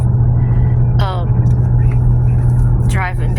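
Car driving on a highway between lakes, a constant low road rumble under a close voice talking.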